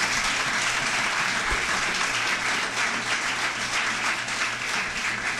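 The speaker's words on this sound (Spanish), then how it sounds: "Denle un aplauso al Señor" A church congregation applauds during a Spanish-language sermon, with steady, dense clapping from many hands filling the room without a break.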